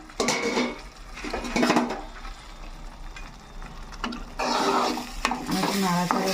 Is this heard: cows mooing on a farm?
no